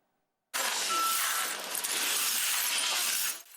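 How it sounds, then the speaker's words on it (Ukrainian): Shards of window glass from a damaged apartment are swept and handled in a cleanup, a bright continuous clatter and tinkle of broken pieces that starts abruptly and runs for about three seconds before fading out. "Сергій вже кілька годин прибирає скло зі своєї квартири."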